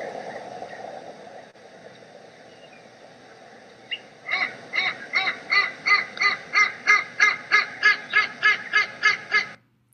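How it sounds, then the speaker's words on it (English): A Cooper's Hawk call played back at half speed begins midway as a rapid, evenly spaced series of about fifteen loud, harsh, honking notes. It follows a stretch of low background noise and cuts off abruptly. "So that's what a Cooper's Hawk sounds like at half speed."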